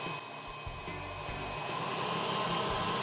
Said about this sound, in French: j'installe la cuve sur le batteur avec le fouet et je mets à fouetter pour la laisser refroidir